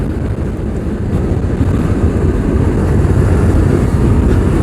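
A KTM 390 Adventure motorcycle runs at high speed, its engine drone heavily buried under loud, low wind rumble that blows steadily and close throughout.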